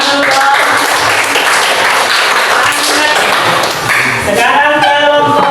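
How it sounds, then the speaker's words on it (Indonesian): Children clapping their hands in a classroom, dense and fairly loud clapping mixed with voices and some tonal chatter toward the end. "tepuk tangan dulu"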